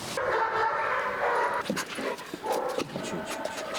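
A sniffer dog at a canine training centre pants rapidly and close by, with a few short whimpers and yips mixed into the steady breathing.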